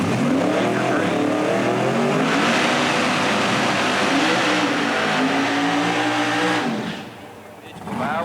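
A drag racing car at Centerville Dragway revs hard and loud, its engine note sweeping up and down in sustained harmonic roars for several seconds before briefly dropping off, with a voice talking over it.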